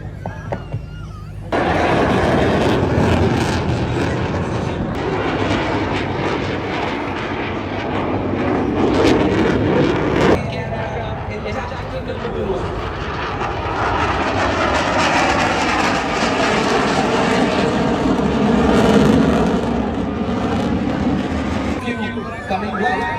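A navy helicopter flies past at the International Fleet Review 2026 off Visakhapatnam, its loud engine roar and rotor wash swelling and fading while an announcer speaks over it.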